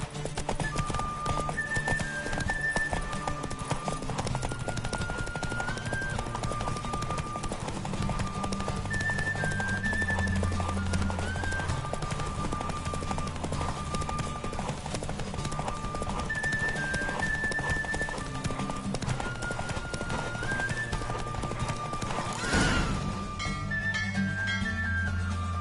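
Horse galloping flat out in a race in The Witcher 3, a rapid, steady drumming of hooves running alongside game music, with a brief whoosh near the end.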